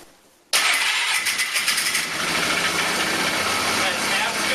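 A Polaris engine with freshly rejetted carburetor cranks and fires after a brief quiet moment, then settles into a loud, steady idle that runs close and continuous to the end.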